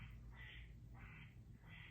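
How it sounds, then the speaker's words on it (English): Quacking ducks from a video game, three bursts at a steady rhythm over a low, constant hum, fairly faint and heard from a distance in another room. "you can hear the game my son is playing, I'm sure. I think it's ducks quacking."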